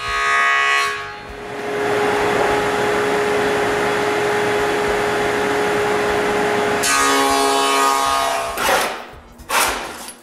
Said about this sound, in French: Je mets donc une lame d'ado dans mon banc de scie, puis je l'ajuste pour une feuillure d'un demi-pouce de large par 1/4 de haut